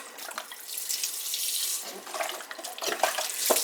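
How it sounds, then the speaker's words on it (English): Water pours from a tap into a pot for pea soup, a steady close splashing rush with brief gurgles, no voices. "Let's add some water to it."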